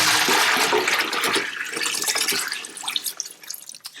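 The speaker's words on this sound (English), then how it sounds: "But now we're going to wash it and dump away the water." Soaked dried shiitake mushrooms being rinsed in a sink, with steady running water, splashing and dripping close by as the soaking water is poured off, no voices.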